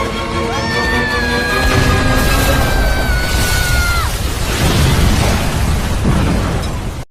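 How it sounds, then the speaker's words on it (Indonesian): A loud, sustained roaring blast fills the scene, with ringing tonal sweeps in the first half and a dense rumble before an abrupt cutoff. "terjadilah ledakan yang sangat besar di tempat itu"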